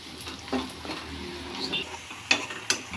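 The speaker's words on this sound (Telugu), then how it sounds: "అల్లం వెల్లుల్లి పేస్ట్ వేసుకొని కలుపుకోవాలి. బ్రౌన్ కలర్ వచ్చే వరకు కలుపుతూ ఉండాలి." Ginger garlic paste stirred and fried in oil for an egg tomato curry, a low sizzle with a few sharp scrapes and taps of a spoon against the pan.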